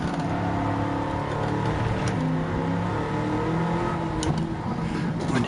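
A car in Gran Turismo 7 revs hard, climbing in pitch to bounce off the rev limiter in quick blips, a loud, dense engine drone that holds steady throughout with no voices.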